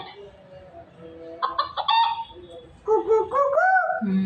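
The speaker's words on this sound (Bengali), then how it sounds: "মুরগির ডাক" A children's toy plays a recorded chicken call: a few short clucking bursts followed by a longer cackle, fairly loud and close, with faint background noise and no talk over it.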